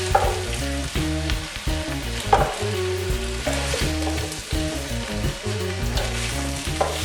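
Spinach sizzles and fries in a pan while being stirred, a loud, constant crackle broken by repeated scraping stirs of the utensil, close up with no voices.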